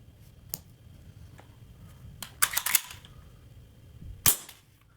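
A Daisy Model 25 BB gun fires a few sharp, snappy shots, a quick pair, a cluster and a final crack, separated by quiet background hum.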